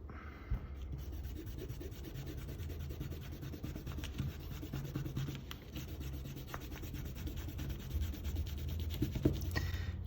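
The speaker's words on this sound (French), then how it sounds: "on peut gommer nos traits de construction" An eraser rubbing out pencil construction lines on paper while drawing a red slime skin, a steady close scratchy scrubbing that runs the whole time in short repeated strokes.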